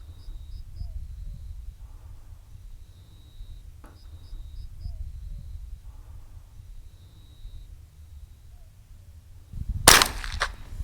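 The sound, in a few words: gunshot at a hare during night hunting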